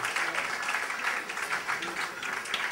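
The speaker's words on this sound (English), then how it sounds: "Round of applause, come on everybody." A hall audience claps together in a steady, dense round of applause at a temple academy day celebration, with a murmur of voices running beneath the clapping throughout.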